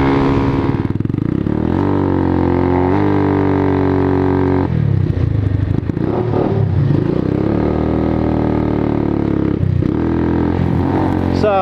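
A motorcycle engine runs close by at a steady, loud idle with a strong low hum, some mechanical clatter and slight shifts in pitch, heard on its own without talking.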